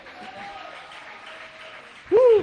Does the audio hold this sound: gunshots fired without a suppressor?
no